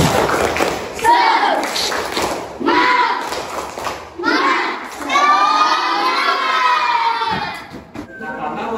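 Classroom of children chanting and clapping the 'tepuk semangat' rhythm together, loud and close, in rhythmic bursts of voices and claps.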